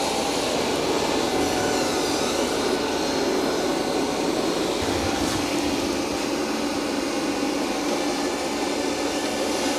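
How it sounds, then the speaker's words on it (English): Dreame L40 Ultra robot vacuum mopping and vacuuming at once, a loud steady whirring drone with a continuous airy hiss that holds unchanged throughout. "it's going to start mopping and vacuuming at the same time"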